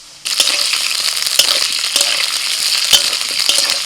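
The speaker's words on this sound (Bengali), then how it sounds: "কড়াইতে আর একটু তেল দিয়ে দিয়েছি, তেলের মধ্যে দিয়ে দিচ্ছি আলু" Potatoes hit hot oil in a wok with a sudden burst of sizzling, then a dense, continuous crackle with sharp pops scattered through, close and loud without any talking.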